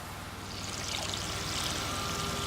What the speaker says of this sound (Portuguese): os engenheiros estão fazendo uma receita de concreto liquefeito